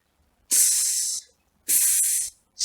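Two long, sharp hissing "tss" sounds made with the mouth, imitating a hi-hat, each lasting about a second with a short gap between.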